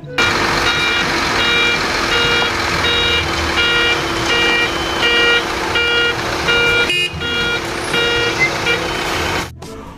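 A toy cement mixer truck gives off repeated electronic beeps in a steady rhythm, loud and close, with a constant mechanical hum underneath and a short break near the end.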